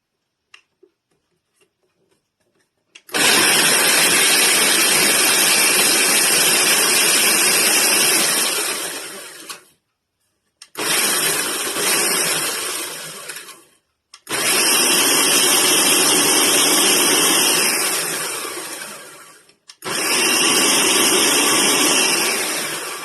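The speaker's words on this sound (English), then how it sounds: "So I'm in the process of grinding up some graham crackers." A blender grinds graham crackers into crumbs for a cheesecake crust, running in four loud, steady bursts of several seconds each with short pauses between them.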